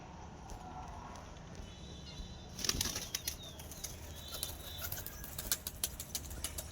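A newly bought pigeon is released and flaps its wings in a sudden burst of takeoff, followed by a few lighter, quicker wingbeats over faint outdoor background noise.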